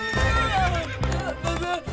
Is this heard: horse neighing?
yes